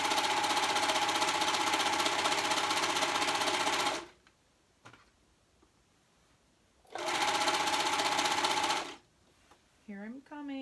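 A sewing machine stitches hoodie fabric in two loud, rapid bursts separated by quiet pauses, and a short voice comes at the end.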